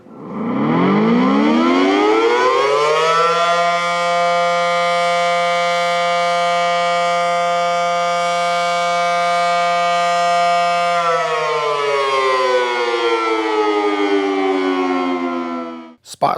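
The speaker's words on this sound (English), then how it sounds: "Air raid sirens are activated." A loud air raid siren winds up, holds a sustained wailing tone for several seconds, then winds down and fades.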